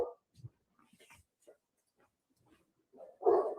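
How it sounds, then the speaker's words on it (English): Dogs bark indoors in a few scattered yips and whimpers, then one louder bark near the end, with quiet gaps between. "My dogs are going crazy."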